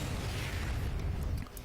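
StarCraft 2 Zerg corrosive bile lands in a loud, dense burst of explosive rumble and crackle during a video game battle, holding steady before tapering off at the end.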